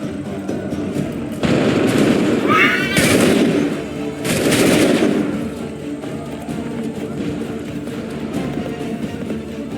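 Massed musket volleys from soldiers in the Assassin's Creed 3 video game, with two loud bursts of gunfire cracking out a couple of seconds apart over a rumbling battlefield background.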